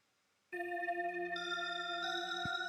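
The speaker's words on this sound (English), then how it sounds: "we have 3 different kinds of bells going on here" After brief silence, three kinds of bright synthetic bell tones from Cubase patches ring in, layering into sustained shimmering chimes, with a low thump near the end.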